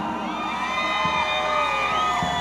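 A crowd at a Pazos 2024 festival with an orchestra shouts and cheers in one sustained, loud roar of whoops and cries, a broad mass of voices with no single speaker standing out.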